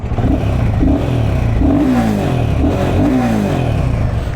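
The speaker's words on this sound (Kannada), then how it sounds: "ಗಾಡಿ ಎಕ್ಸಾಸ್ಟ್ ನೋಟ್ಸ್ ನೋಡೋಣ" A Royal Enfield Himalayan 450 motorcycle engine revs up repeatedly, its exhaust note rising in pitch with each throttle blip over a steady, close idle rumble.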